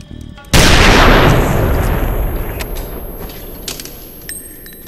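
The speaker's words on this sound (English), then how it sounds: "By shooting himself through the mouth and seeing Tyler's brains blown out, Jack is seemingly free of Tyler." A single loud gunshot in a film scene, a man shooting himself through the mouth, bursts in suddenly after a quiet moment, then decays into a long rumbling tail with faint scattered clicks and mechanical noises.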